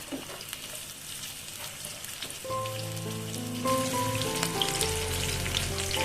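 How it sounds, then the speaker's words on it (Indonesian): Onions sautéing in hot cooking oil while preparing freshwater lobster in oyster sauce, a steady broadband sizzle and crackle with a background melody entering partway through, no speech. "Kalau sudah panas, langsung aja kita tumis bawang bombaynya terlebih dahulu."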